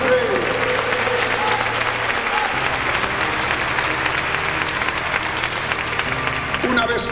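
Congregation at a church service in Guadalajara, Mexico, claps loudly and continuously, a thick wash of applause with a low organ or keyboard tone droning underneath and some voices mixed in.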